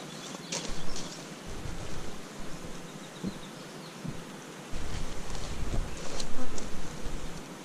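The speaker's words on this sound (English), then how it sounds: "Yeah, a lot of bees." A dense, steady buzz of many honey bees around a hive fills the clip, with individual insects droning past close to the microphone and some wind rumble.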